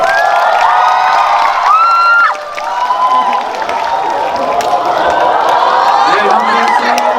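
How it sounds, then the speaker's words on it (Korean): A crowd at a Korean film stage event greets actors Hyun Bin and Son Ye-jin and director Lee Jong-seok with loud cheering, shrieks and clapping, a dense roar with a voice calling out over it. "큰 박수 부탁드립니다."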